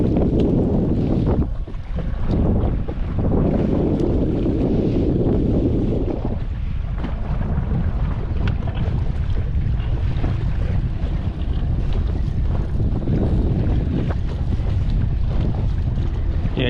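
Strong gusty wind roars across a lake while out on a fishing boat, buffeting the microphone continuously, with water slapping and choppy wave noise underneath, loud and unbroken.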